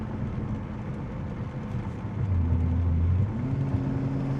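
A modified BMW G80 M3 accelerates, its intake drone rising in pitch and getting louder partway through, heard from inside the car with no talk.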